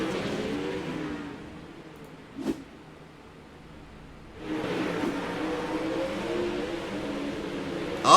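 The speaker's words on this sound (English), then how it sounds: "we've got a car slow on the back straightaway" Dirt track race cars at Charlotte roar past in two bursts of engine noise separated by a quieter gap, with a brief sharp sound in between and the roar building again toward the end.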